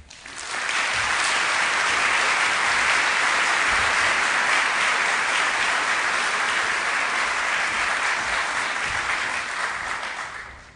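A conference audience at the Society of American Archivists 2012 gathering breaks into loud, sustained applause welcoming keynote speaker Jon Voss, swelling quickly and holding steady for about ten seconds before tapering off.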